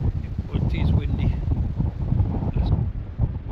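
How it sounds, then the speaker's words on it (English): Strong wind buffets the microphone on Druridge Bay beach in Northumberland beside the rocks, a steady loud rumbling roar that gusts unevenly throughout. "But it is windy."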